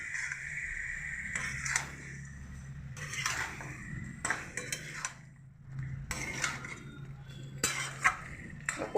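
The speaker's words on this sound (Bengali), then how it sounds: "কড়াইয়ের মধ্যেই আমি ভালো করে নাড়াচাড়া করে কষিয়ে নেবো মাংসটাকে" A utensil scrapes and clinks against a metal wok in repeated strokes, stirring mutton, with a low steady hum underneath and no talking.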